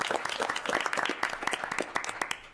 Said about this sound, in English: let's give them a round of applause to make sure they're here